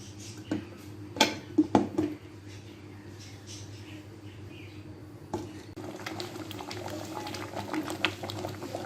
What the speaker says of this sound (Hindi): जैसे कि आप देख रहे हैं दाल बॉईल हो चुकी है।